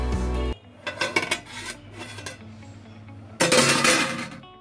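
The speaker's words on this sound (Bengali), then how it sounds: "এখন আমি ঢাকনাটা উঠিয়ে নিচ্ছি।" A lid comes off a pot of semai pudding with a loud metallic clank, then lighter clinks and rattles, and a final bright, sustained clatter of metal on cookware, close by with no talking.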